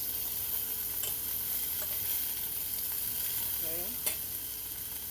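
Strips of fish fillet frying in a pan, a steady, even sizzle with a few light clicks of stirring, close and alone without talk.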